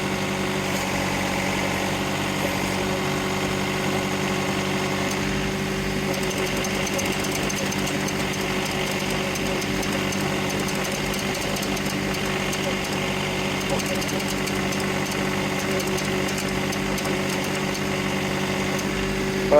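A tractor engine runs steadily while a HydrosPlus Auger+ digs holes in muddy ground, a continuous rumbling drone with a rattling mechanical edge heard from off to the side and holding an even level throughout.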